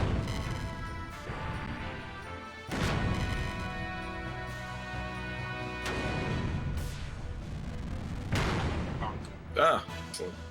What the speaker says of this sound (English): Rocket punch!